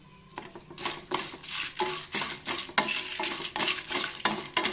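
Coriander, cumin and mustard seeds dry roasting in a pan, stirred with close, repeated scraping and rattling strokes in an uneven rhythm, with no voices.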